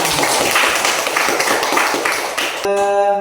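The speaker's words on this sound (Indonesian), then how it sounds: "Tepuk tangan untuk teman-temannya" Students in a classroom clap for their classmates, brisk and dense for a couple of seconds before the clapping cuts off into a sustained tonal hum.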